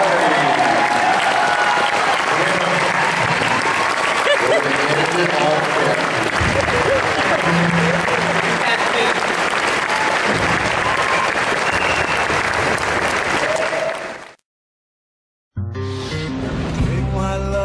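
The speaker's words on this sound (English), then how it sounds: "Round of applause for the cast of Sci-Fi." Loud, dense applause from a Comic Con crowd for the Firefly cast at the 2013 Philadelphia reunion, with cheering and voices mixed in, running continuously until an abrupt cut to silence and then a brief return.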